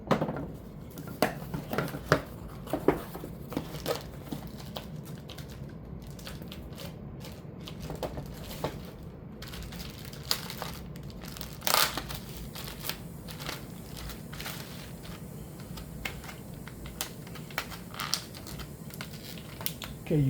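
Plastic packaging crinkles and rustles as toy missiles from a Valaverse Action Force Vanguard figure are pulled free, with irregular crackles and small clicks close by and no talking.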